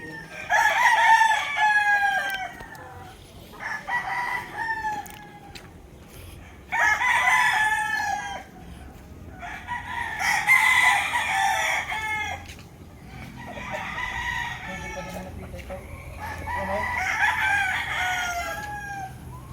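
Young gamecock stags at a farm in Tanauan City, Batangas crowing repeatedly, about six loud crows in succession, near and clear over a quiet background.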